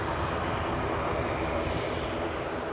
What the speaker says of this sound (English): I think that Piper Comanche is going to be taking a quick takeoff at some point.